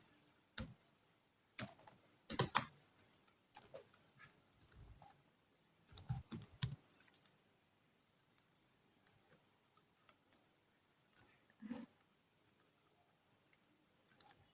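Light computer keyboard typing while working in Canva: scattered quiet clicks in short bursts, a few keystrokes at a time, with long pauses in between.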